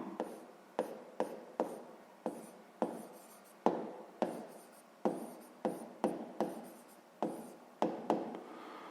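A pen scratches out a sixth-grade math solution on paper in a quick series of about twenty short, close strokes, quiet and rhythmic with no talking.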